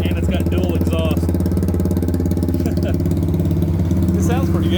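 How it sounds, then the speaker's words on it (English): A 110cc four-wheeler motor with dual exhaust runs in a street-legal bumper car, a loud, steady idling putter close by with someone talking over it. "110cc four-wheeler motor and drivetrain in it. Oh yeah, she sounds good."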